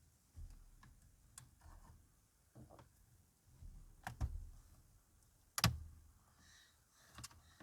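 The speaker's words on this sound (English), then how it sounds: "get your plastic trim tool, the thinner the better, and get it under this edge just to pop it up" Faint clicks, ticks and plastic creaks come from a thin plastic trim tool prying up the handbrake boot on a Ford Ranger. One sharp pop stands out near the end, with soft handling noise in a quiet space.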